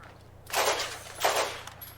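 Enemy gunfire in Borderlands, two short distant bursts of shots about three-quarters of a second apart over a quiet background hum.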